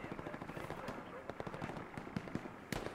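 Rapid bursts of machine gun fire crackle in the Hell Let Loose World War II shooter, quick repeated shots fairly far off and faint, with some voice chatter mixed in.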